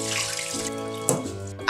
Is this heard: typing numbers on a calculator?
no